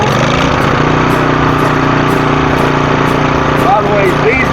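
A Sportsman generator engine runs steadily and loudly at close range, a constant droning hum with no pauses, while a person talks faintly beneath it.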